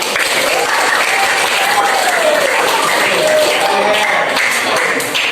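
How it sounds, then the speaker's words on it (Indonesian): A group of participants applauds at a classroom presentation session, steady loud clapping running throughout, with voices chattering underneath. "Beri tepuk tangan untuk kelompok 1"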